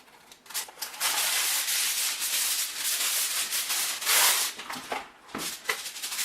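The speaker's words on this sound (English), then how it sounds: "I think I'm going to cover the edges on this one with aluminum foil so that they don't burn." Aluminum foil is crinkled and pressed around the crust edges of an apple pie, a close series of bright rustling crackles and rubbing scrapes in uneven bursts.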